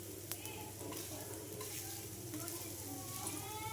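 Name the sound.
pesarattu (green gram dosa) sizzling on a pan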